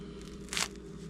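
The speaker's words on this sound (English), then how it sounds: "You get a crunch?" Crust of freshly baked slightly wheat sourdough bread giving one short, sharp crunch midway through a brief quiet moment.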